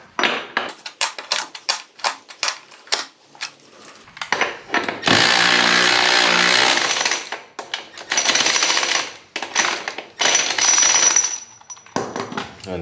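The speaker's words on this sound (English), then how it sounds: "You gotta get the 34 millimeter axle nut. Let's go ahead and loosen this bad boy up." An impact tool loosens the 34 mm rear axle nut on a 2023 BMW S1000RR: repeated loud rattling bursts of hammering, some long and some short, close up with gaps between them.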